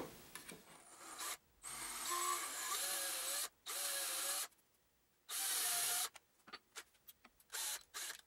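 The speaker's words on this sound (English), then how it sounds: "I'm going to go ahead and drill that and go ahead and shave this off" A power tool drills and shaves a part for a DIY grinder slider, with several bursts of high grinding or rasping sound broken by pauses and some lighter handling noises, close and without talk.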